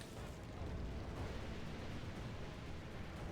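Artillery fires in a fantasy strategy game battle beside shooting archers, a dense continuous roar of distant booms and rumbling blasts blending into one heavy wash.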